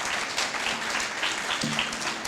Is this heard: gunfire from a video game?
no